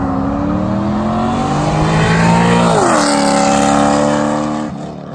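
A cammed 2012 C6 Corvette Grand Sport roars past at speed, its loud rising engine note peaking as it nears, then dropping sharply in pitch as it passes and fades away.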